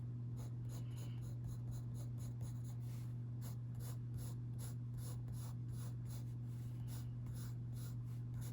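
Coloured pencil, Faber Castell or Crayola, shading on paper in quick repeated scratchy strokes, a steady close scribbling rhythm over a low constant hum.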